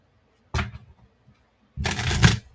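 Tarot cards being shuffled in two short bursts, a brief riffle followed by a longer, louder one after a pause, close and clear with no talking.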